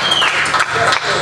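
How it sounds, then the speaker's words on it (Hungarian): A rock concert crowd at an outdoor rock garden claps and cheers for a musician, a dense, steady burst of applause with voices mixed in. "egy nagy tapsot neki!"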